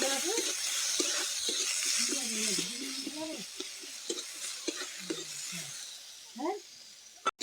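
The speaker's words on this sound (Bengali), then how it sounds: "তারপরে দিয়ে দিব পেঁয়াজ কুচি পেঁয়াজগুলোকে ভালো করে ভেজে নেব" Chopped onions dropped into hot oil with fenugreek seeds, frying with a steady close sizzle and occasional stirring clatter, while someone talks over it throughout.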